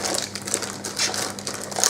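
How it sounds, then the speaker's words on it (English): Cardboard packaging of a Logitech G710+ mechanical gaming keyboard box is torn and crushed open by hand, giving a string of close crunching, crinkling bursts in quick succession. "We'll see if we can just break this open without using a knife"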